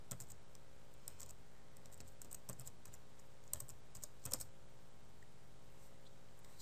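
Quiet typing on a computer keyboard while entering a search, light irregular key clicks with a few louder taps in short bursts, no talking.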